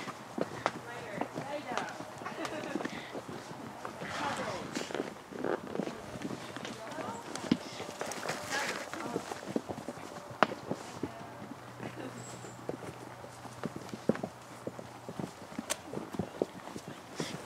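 Horse hooves clip-clop steadily on a hard surface, a rhythmic train of sharp knocks throughout, close and moderately loud, with people talking over them.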